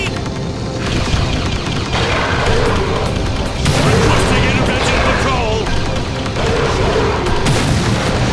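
Gunfire and heavy explosions from the Beyond Good and Evil video game, a dense continuous barrage of booms and crashes during a hovercraft attack, with excited voices talking over the loud battle.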